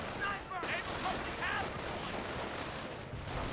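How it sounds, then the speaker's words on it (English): Dense battlefield gunfire from Company of Heroes, a steady wash of rifle and machine-gun rounds with brief unit voice callouts near the start, continuing without a break for a few seconds. "They're firing on us!"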